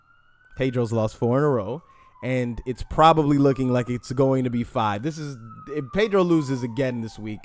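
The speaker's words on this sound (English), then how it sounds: "sorry about the sirens" A siren outside wails steadily behind someone talking loudly up close, its faint sweeping tone continuing under his speech the whole time.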